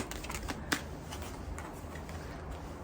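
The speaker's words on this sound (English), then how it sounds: "If you don't like watching the shuffling process," Tarot cards being shuffled by hand, a steady soft papery riffle and slide with a sharper snap near the start, close and fairly quiet throughout.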